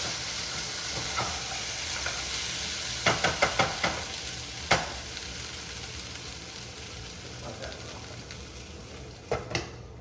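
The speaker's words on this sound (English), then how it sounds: "So after you let your potatoes get a little crispy, you stir them up one more time" Crispy potatoes frying in a pan for green chili are stirred, and a steady close sizzle runs throughout. Clusters of sharp spatula scrapes come near the start and middle, with a couple more toward the end.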